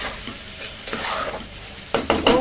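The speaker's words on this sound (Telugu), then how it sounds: "కొంచెం గోలింది కదా, వేగింది కదా కొద్దిగా." Moong dal frying and being stirred in a pan: a steady close sizzle with sharper scraping strokes of the spoon growing louder near the end.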